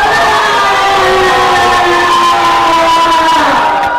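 A church congregation shouts and cheers in one loud, sustained roar of many voices, with a few voices holding high tones across the whole stretch.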